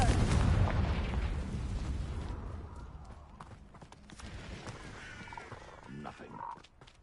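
A Confringo fire spell bursts in the Hogwarts Legacy video game, a loud rumbling blast that booms at the start and fades, followed by quieter crackling and rustling game effects.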